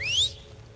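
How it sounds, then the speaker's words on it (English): An enemy in The Last of Us Part II whistles to signal allies, a single short rising whistle lasting under half a second, clear and fairly close over a low game ambience. "she's probably trying to whistle to her pals"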